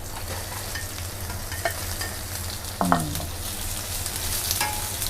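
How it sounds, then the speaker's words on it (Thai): Fried tofu and shiitake mushrooms being stir-fried in a pan, a constant close sizzle with intermittent scraping and knocks of a spatula, including one sharp clank partway through. "เต้าหู้นะที่ทอดกับ ไอเห็ดไอเนี่ยค่ะ เห็ดหอมลงไปผัดเลยค่ะ"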